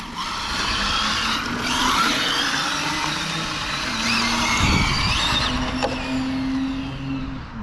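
A HOBAO VTe2 RC drift car with a BMW 8-series body and electric motor running at speed: a continuous high whine and hiss that rises and falls slightly, steady and moderately loud, with no voices.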